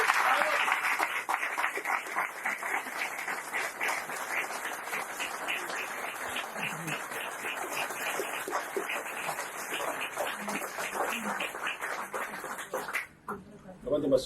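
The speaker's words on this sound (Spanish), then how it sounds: "Me emociona el aplauso de ustedes porque es histórico este momento." Audience applause at a conference forum on universal basic income: sustained rhythmic clapping from a large hall crowd, steady for most of the stretch before fading abruptly near the end, with a voice briefly heard.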